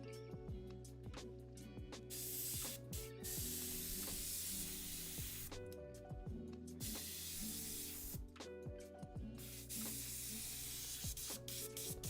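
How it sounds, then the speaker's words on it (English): An airbrush sprays paint onto Warhammer 40k miniatures in a steady, continuous hiss lasting the whole stretch, with faint tonal background sounds running underneath. "It's been nothing but airbrushing for the past 4 hours."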